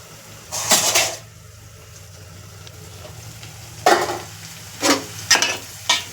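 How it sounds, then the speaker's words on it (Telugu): Onions being stirred and fried in a pan for a home-style fish curry (chepala pulusu), with several short scraping stir bursts over a steady low sizzle, close and fairly loud, no talking. "ఇట్లా ఒకసారి కలిపేసుకున్న తర్వాత దగ్గర గోల్డెన్ కలర్లో వచ్చేయాలి ఉల్లిపాయలు."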